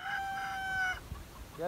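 A rooster crows once in a short, strained call lasting about a second, fairly close, followed by faint clucking and bird sounds at a home coop.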